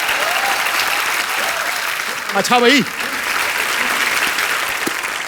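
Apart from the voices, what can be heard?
studio audience applause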